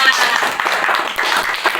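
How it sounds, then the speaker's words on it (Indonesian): Classmates applaud in a classroom, a dense, steady patter of many hands clapping together that stays loud and even from start to finish. "Beri tepuk tangan untuk teman kalian"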